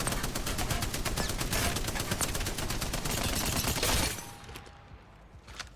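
An automatic weapon in Apex Legends fires in one long unbroken burst of rapid shots for about four seconds, loud and dense, then cuts off into a quieter tail.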